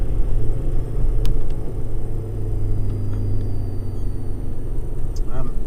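Ford Ranger Wildtrak pickup driven on a wet road with the throttle held high in the revs: a loud, steady low engine drone and road rumble fill the cabin, with faint tyre hiss above it.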